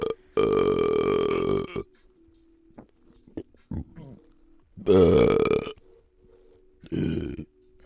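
A man lets out three long, loud, deep burps close to the microphone during a casual podcast chat, each a drawn-out croaking belch separated by quiet pauses and small mouth noises.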